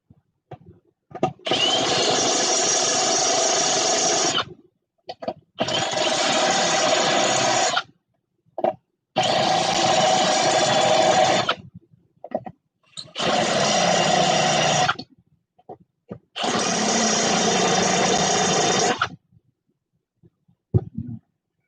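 A machine cuts metal chips while an engine base is being machined for an exhaust port. It comes as five long, loud grinding passes of roughly three seconds each, separated by short pauses, with no talking.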